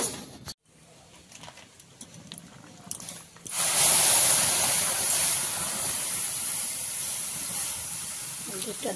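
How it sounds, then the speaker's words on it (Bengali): Milk is poured into hot ghee and semolina in a pan, setting off a sudden loud sizzling hiss that stays strong and continuous after quieter kitchen sounds and a little talk. "দুধটা ঢেলে দিলাম।"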